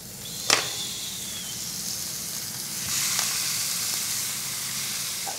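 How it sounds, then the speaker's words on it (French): Burger steaks placed in hot pans, a sharp hiss at first contact settling into a soft, steady sizzle that swells again later. "on peut faire cuire les steaks."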